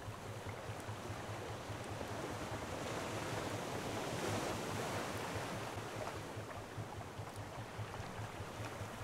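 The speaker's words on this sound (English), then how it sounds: "Now the waters are gonna get rough. We're gonna be going against the wind in a minute." Rough ocean waves and strong wind in the video game Raft, a steady, loud roar of surf with gusting wind noise that carries on without a break.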